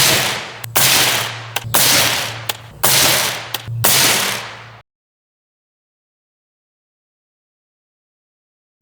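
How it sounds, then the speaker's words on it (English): A 20-inch AR rifle fitted with a suppressor fires 77 grain Sierra Match King rounds, five loud, sharp reports spaced about a second apart, each followed by a short decaying tail, then silence. "77 grain Sierra Match Kings out of the 20-inch AR"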